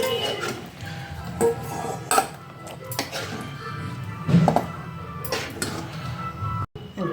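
Prawn curry scooped from a cooking pot into a serving bowl in a home kitchen, with several close clinks and scrapes of utensil against metal scattered through steady low background noise.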